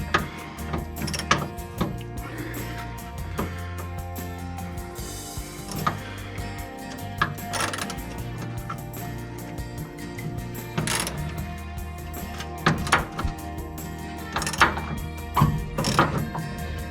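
A regular shallow socket ratchets a nut on the back stud of a 1966 Ford Mustang, producing repeated bursts of rapid clicking strokes with short pauses, close and fairly loud over a low steady hum.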